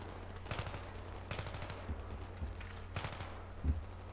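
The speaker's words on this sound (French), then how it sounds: "On tire un peu au jugé, on met quelques balles." Bursts of automatic gunfire from the Battlefield video game come in three or four short volleys of rapid shots, with a few single thuds between them, at moderate volume.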